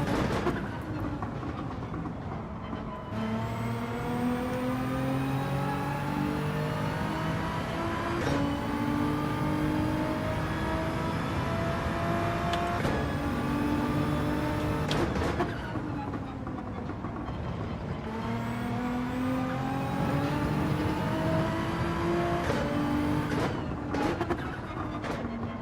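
A BMW race car engine in Gran Turismo 7 revs loudly and continuously, rising through gears in repeated climbing sweeps with brief drops at each shift, sustained and close with no talk.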